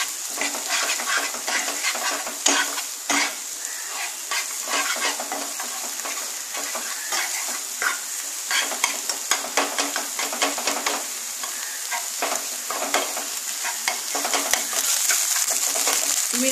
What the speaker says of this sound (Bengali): এবার নাড়াবো, ডিমের ঝুড়ো করে নেবো এখানে